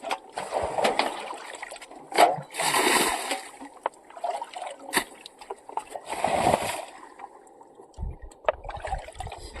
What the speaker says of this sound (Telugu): వంగి వంగి నీళ్ళు తీయాలి ఫ్రెండ్స్